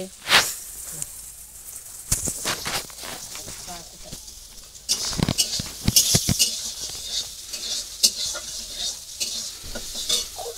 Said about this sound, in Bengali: উচ্ছেটা ভেজে নিচ্ছি।